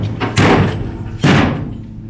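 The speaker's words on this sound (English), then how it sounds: "So he shocks the door." A firefighter strikes a door hard during forcible entry training, two loud heavy thuds about a second apart, close and ringing briefly after each impact.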